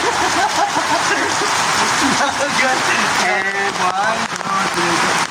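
Steady rain pours down as friends bathe in it outdoors, a loud continuous hiss of drops with splashing and voices talking and laughing over it throughout.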